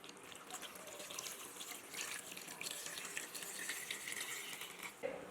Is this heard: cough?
no